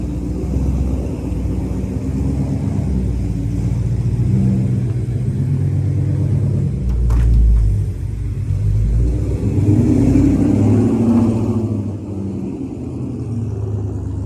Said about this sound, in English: And there's Joe in his car